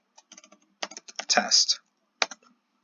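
Keystrokes on a computer keyboard as a terminal command is typed, a few scattered clicks then a quick burst of fast typing and a final short run, close and clear with a brief word spoken.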